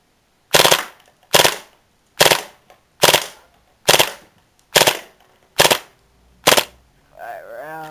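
Eight sharp cracking shots from a Tactical Force TF-11 gun, fired in an evenly spaced rapid sequence, loud and close, followed by a brief mechanical whine at the end.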